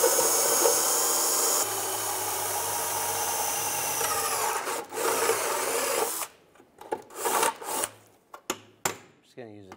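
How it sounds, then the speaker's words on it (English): A power drill whines steadily for several seconds drilling out a rivet on a 2006-2011 Cadillac DTS, then stops, followed by scattered knocks and short bursts of handling noise. "you're gonna have to drill out this rivet. Use a drill bit and a drill."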